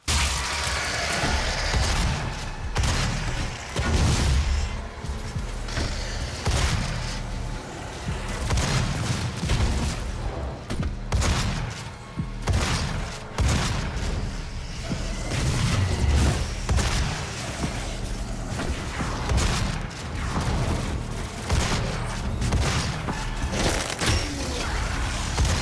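Gunfire and explosions from the shooter game Doom, a dense continuous barrage of shots, booms and mechanical clatter filling the whole stretch at steady high loudness, with no talking.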